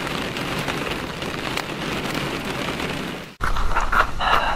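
Steady rain falls on a mountain campsite at night, a dense, close hiss of drops on surfaces that breaks off briefly near the end and then resumes with sharper, nearer patters.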